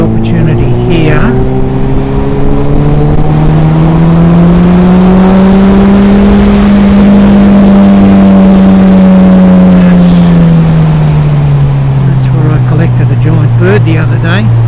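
A Suzuki B-King motorcycle heard onboard while riding, its engine droning loudly and steadily with a slow rise and fall in pitch under heavy wind rush, with a rider's voice talking over it.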